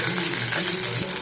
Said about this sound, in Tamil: இப்போ நம்ம வெங்காயமும் வெண்டைக்காயும் போட்டு நல்லா அந்த வளவளப்பு போகிற வரைக்கும் நல்லா வதக்கிக்கோங்க.